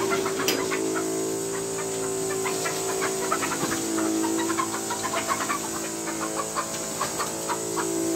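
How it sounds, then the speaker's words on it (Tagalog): Chickens in a small backyard coop cluck steadily throughout, with repeated short calls over a constant hum of farm background noise, moderately close and continuous. "Ito ang ating munting manukan."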